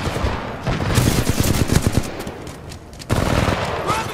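Gunfire in the video game Titanfall 2 during combat: loud rapid bursts of automatic fire crackling almost continuously, a brief lull, then another burst, with no talking.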